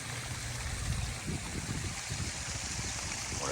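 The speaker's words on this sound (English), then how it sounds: "Nice waterfalls over here too." Water spills steadily over a small waterfall into a backyard DIY koi pond, a continuous close splashing trickle with no voices.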